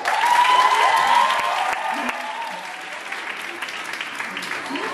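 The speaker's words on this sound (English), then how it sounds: "if we could then clap" Applause from a crowd greets the participants at a show's grand finale as certificates are handed out, loud clapping at first and then easing to a lighter, continuing patter.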